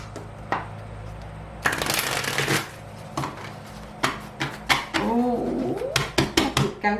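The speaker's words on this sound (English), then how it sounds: "One more shuffle." Tarot cards are shuffled by hand in several bursts of crisp riffling and slapping, close and fairly loud, separated by short pauses.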